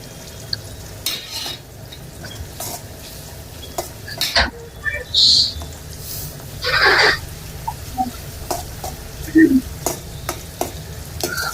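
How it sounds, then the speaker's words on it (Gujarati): Onions fry in oil with cumin and cloves while a spoon stirs them, producing a soft background sizzle broken by repeated scrapes and light metallic clinks against the pan. "ડુંગળીને થોડીક હલાવો, ડુંગળી ગોલ્ડન કલરની થાય ત્યાં સુધી"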